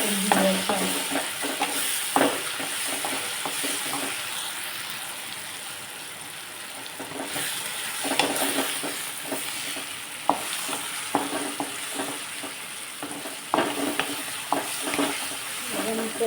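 Vegetables for veg Maggi are sautéed with red chilli powder in a pan, a continuous close sizzle with repeated scraping and stirring strokes throughout.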